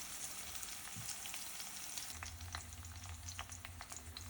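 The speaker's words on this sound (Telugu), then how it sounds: "ఆనియన్స్ బాగా వేగిపోయాయి కదండి" Onions fry in a pan for chicken curry, a quiet steady sizzle with light stirring clicks and scrapes, low hum underneath, no talking.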